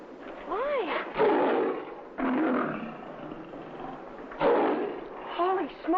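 A lion in a cage lets out several loud, close roars in bursts separated by brief pauses, while people talk over and between them.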